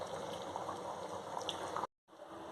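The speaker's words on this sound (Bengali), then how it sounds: "ঢাকনা দিয়ে দিচ্ছি, মাংস বলক চলে আসছে।" Beef curry comes to a boil in a covered pot, giving a soft, steady bubbling hiss heard close but quietly, cut off by a brief silence near the end.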